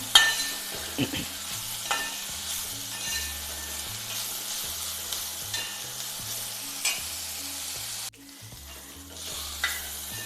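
Bitter gourd dish ingredients sautéed in a pan, with steady frying sizzle and repeated stirring scrapes and clinks throughout, fairly close and alone without talk.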